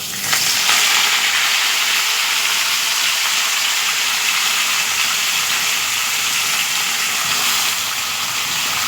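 Katwa data stems fry and sizzle in hot oil for chorchori, a loud, steady hiss close up that runs for the whole stretch with no talking.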